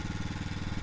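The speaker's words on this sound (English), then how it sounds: "That's why you hear the motor running" A conveyor motor runs steadily close by, giving a continuous low mechanical hum with a slight regular pulsing throughout the short stretch, with no voices over it.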